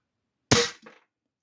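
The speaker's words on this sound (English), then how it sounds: "When I pull the trigger, that whole lot's moving forward inside the cylinder, and that's what's generating the power." Feinwerkbau FWB 65 spring-piston side-lever target air pistol firing a single shot: one sharp, close crack with a short thump and rattle right after, then silence.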